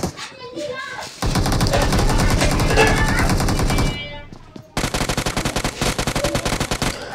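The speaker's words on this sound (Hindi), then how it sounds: "पीछे से हमारे को फायरिंग पड़ती है" Gunfire in the mobile battle-royale game PUBG Mobile: a long sustained burst of rapid automatic shots, a brief lull, then another fast rattling volley, loud and close.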